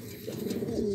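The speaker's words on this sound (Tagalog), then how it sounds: "So bali ito yung kalapati natin, yung blue bar natin" A blue bar racing pigeon coos close by, a soft throaty rolling call lasting about a second against faint background noise.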